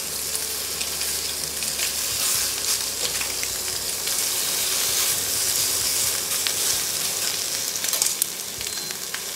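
Ham and ventrèche pork belly browning in a pan, the base for a fried-egg dish. A steady close sizzle and crackle runs throughout with scattered pops and no speech.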